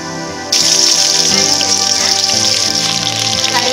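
Mustard seeds and lentils sizzling loudly in hot oil for a South Indian goat offal curry, a dense crackling hiss that bursts in after a short quiet start and continues steadily.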